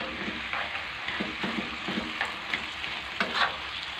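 Braised pork sizzles and fries in a pan while being stirred, with a steady hiss and repeated soft scraping turns of the meat, close and moderately quiet with no talking.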